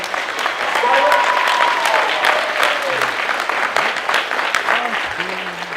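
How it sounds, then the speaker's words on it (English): A big round of applause from the audience at a Crunchyroll Expo 2017 convention panel fills the room, crisp and sustained, while a few voices call out over the clapping. "I want to give Fred Seibert a big round of applause."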